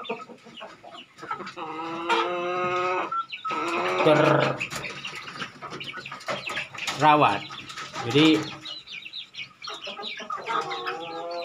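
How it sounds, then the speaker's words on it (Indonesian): Bangkok fighting-breed chickens cluck and squawk close by in uneven bursts on a farm while someone talks over them. "ayam-ayam ini diproyeksikan akan menjadi ayam-ayam aduan"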